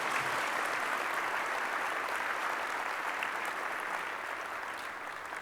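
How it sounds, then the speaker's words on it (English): An audience at a defense and intelligence summit gives a warm round of applause to welcome the speakers, steady, full clapping that gradually tapers off toward the end. "join me in a warm welcome and round of applause for Michèle Flournoy and Joe Votel"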